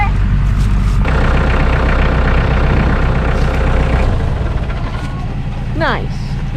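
A tractor engine rumbles loudly and steadily as it arrives, a heavy low drone that eases off toward the end, followed by a brief squeal.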